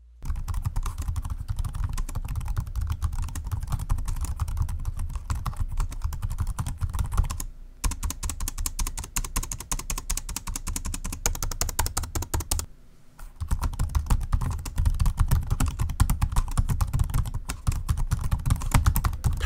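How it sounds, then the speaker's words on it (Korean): Continuous rapid typing on the keyboard of an ASUS Zenbook 14 UM425IA laptop with 1.4 mm key travel, dense close-up clacking with two brief pauses, no rattle and no voices. "키를 이렇게 누르려고 할 때 키압이 바로 걸리기 때문에 키감은 상당히 괜찮은 편이고 소리 한번 들어볼게요"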